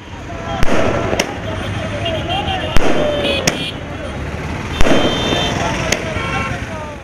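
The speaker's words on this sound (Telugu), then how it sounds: "అందుకే హైదరాబాద్లో, విశాఖలోనే కాక బీజేపీకి పట్టున్న ఇతర జిల్లాల్లోనూ టపాసులు బాగానే పేలాయి" Firecrackers bursting at a political celebration in Hyderabad and Visakhapatnam: several sharp cracks stand out over a steady rumble of crowd noise and chatter, with the bangs spaced irregularly across the stretch.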